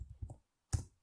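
A few short taps on a computer keyboard, with a soft double stroke and then one sharper key click after a short gap, close and quiet.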